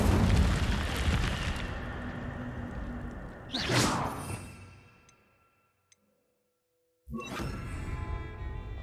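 A fire spell cast in the Hogwarts Legacy video game bursts out in a loud whooshing blast that trails off into near silence, then a second fiery burst strikes abruptly and holds at full strength.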